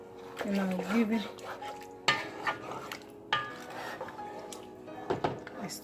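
A spoon scrapes and clinks against a pot while stirring seafood okra soup made with tilapia and mackerel, giving intermittent close metallic knocks and scrapes with a few sharper hits over a soft kitchen background.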